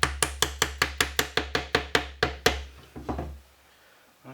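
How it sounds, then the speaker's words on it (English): A series of about a dozen evenly spaced, solid taps of a dead blow hammer on wooden joints of a mash paddle, close and crisp, then a few slower, softer knocks as it stops. "Using a dead blow hammer, I'm gonna lightly tap them into their final positions."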